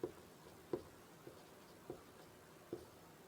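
Chalk or marker strokes sound on a classroom board during a Class 10 mathematics lesson, as five soft, evenly spaced taps and scrapes, quiet and close, with no talking.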